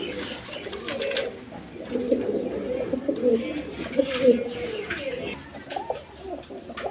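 Pigeons, including a male, coo in soft, throaty, rolling calls that swell and fade over a few seconds, close by against a faint background.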